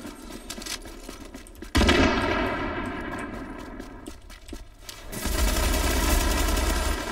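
Rapid automatic gunfire in The Division, with bursts of shots crackling loud and close and a heavier barrage surging in toward the end.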